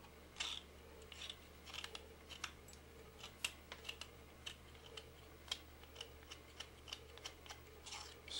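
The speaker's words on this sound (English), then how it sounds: "I can just use my lab knife to trim that off" A lab knife trims sharp edges off a stone dental model, making a series of faint, quick scraping clicks at an irregular rhythm, close by in a quiet room.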